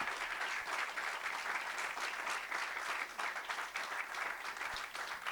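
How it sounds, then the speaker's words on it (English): A full room applauds panel guests at a governance and deployment event, with dense, steady clapping that holds at an even loudness throughout and no speech over it. "I want to ask for a huge round of applause for our amazing guests."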